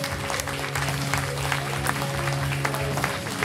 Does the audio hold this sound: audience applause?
yes